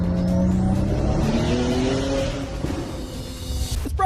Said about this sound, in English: Epic Games even use their own car engines to make the Season 2 vehicle sounds.